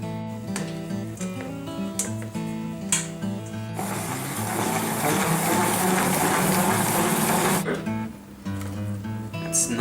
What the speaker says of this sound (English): So I'll just put it into one of these salad dryers.